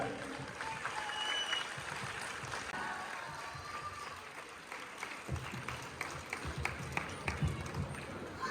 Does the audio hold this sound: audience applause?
yes